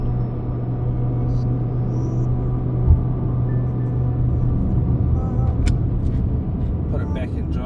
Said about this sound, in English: You can hear the motor is like revving up hard.